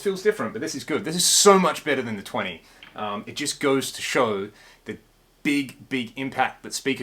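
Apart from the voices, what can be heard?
None of the usual background noises is heard.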